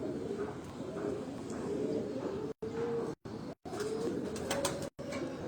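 A pigeon with a waxy black beak and yellow eye coos in low, repeated rolling calls, close and steady, with brief gaps of silence between phrases.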